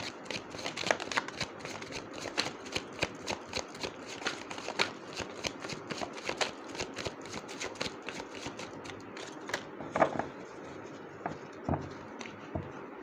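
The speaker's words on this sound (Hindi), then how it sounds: "एक शफल और करूँगी मैं।" A deck of tarot cards is shuffled up close, with rapid, crisp riffling clicks and flicks in a dense, uneven rhythm that goes on steadily at a soft level.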